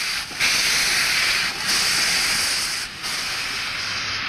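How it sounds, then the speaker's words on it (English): Norfolk & Western 611 steam locomotive lets off a loud, close, continuous hiss of steam on a cold day, with brief dips in intensity between sustained bursts. "It's great weather for steam as the 611 puts on a fantastic show"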